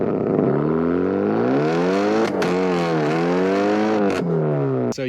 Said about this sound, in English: this car definitely has turbo noises